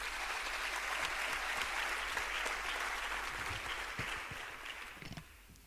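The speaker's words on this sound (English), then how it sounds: "please, a warm applause to him" Warm audience applause at a Basque Culinary Center competition final in honor of its CEO, a dense, steady wash of many hands clapping that holds for several seconds before thinning out at the end.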